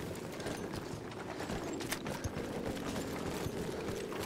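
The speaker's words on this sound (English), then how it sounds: "What is the horse doing on the battlefield?" Horse hooves clip-clop on the battlefield in the game Battlefield 1, a rapid muffled thudding rhythm under dense combat noise and clatter, fairly quiet throughout.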